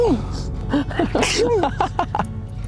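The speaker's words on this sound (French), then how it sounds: "Attends j'ai envie d'éternuer." A single sneeze bursts out amid a moment of vocal sounds and breaths, close and fairly loud, with a gasp-like intake around it.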